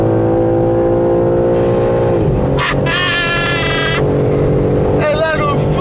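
A stock-engined BMW M3 pulls flat out in third gear, its loud, steady engine roar climbing and holding close up with a shift-like dip midway; voices talk over it.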